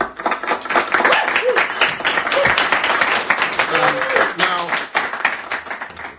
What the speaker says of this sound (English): But a little applause never hurts.